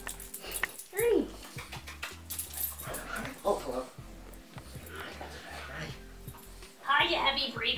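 A dog whimpers and yips in short rising whines between heavy breaths, close by, while a person talks over it in a friendly voice.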